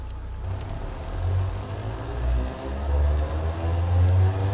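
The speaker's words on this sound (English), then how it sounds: "So here's the engine running." A Kard 116 Eco economy car with high-flow mufflers runs in the Automation car-building game, its engine giving a steady low drone that swells and eases gently, alone and close.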